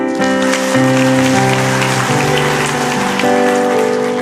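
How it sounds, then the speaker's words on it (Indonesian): A church congregation applauds, a steady wash of clapping running beneath sustained keyboard or organ chords that shift every second or so. "kasih tepuk tangan untuk Tuhan"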